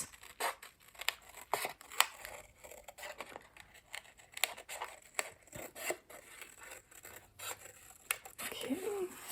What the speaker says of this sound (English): Just move your scissors or your paper.